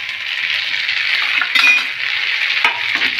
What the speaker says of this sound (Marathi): आता आपण त्याच्यात टमाटर टाकूया.